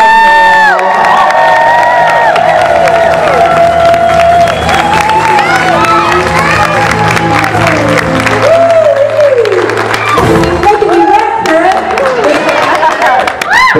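A large convention concert crowd claps, whoops and cheers loudly and continuously, with shrill shouts and whistles rising over the sustained applause from up close.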